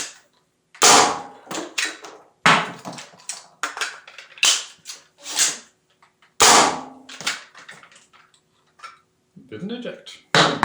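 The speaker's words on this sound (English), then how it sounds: "you can get pretty fast with reloading this thing" Sillyshell handcannon being reloaded and fired in a game, sharp cap-gun-like shots and metallic clicks in irregular bursts, fairly loud and close, with a voice talking between them.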